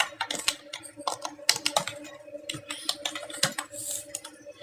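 Rapid, irregular keystrokes on a computer keyboard while filling in an Excel payroll spreadsheet. The clicks are close and crisp, in uneven bursts with short pauses, and there is no talk over them.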